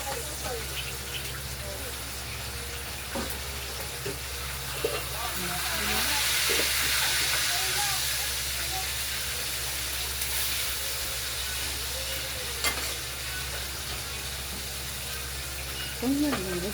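Pork fries in hot oil in a home kitchen, giving a soft, steady sizzle and hiss that swells midway before settling back, with faint background noise.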